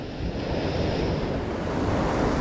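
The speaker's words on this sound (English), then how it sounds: "Those waves are getting bigger, so we're going to have to watch ourselves." Waves break over a shallow reef at night in a steady, dense roar of surf. Wind buffets the microphone throughout and the sound grows slightly louder toward the end. No one speaks.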